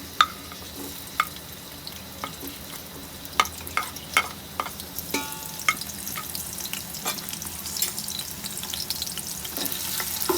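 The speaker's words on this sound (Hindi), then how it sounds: "प्याज को फ्राई करेंगे" Chopped onions frying in hot mustard oil for a chickpea pulao, a steady close sizzle with scattered sharp pops and crackles that grows denser as the onions cook, with no talk.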